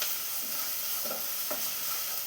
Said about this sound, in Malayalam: ഇനി സവാള എല്ലാം ഒന്ന് കളർ മാറി വരുന്നവരെ നന്നായി തന്നെ ഒന്ന് വഴറ്റിയെടുക്കാം.